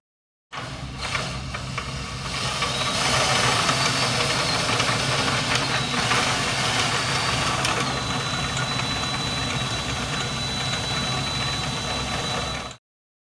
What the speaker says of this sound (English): you'll run your stabilizer up and down a few times to really work that grease into the threads